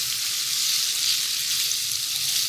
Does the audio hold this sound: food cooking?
yes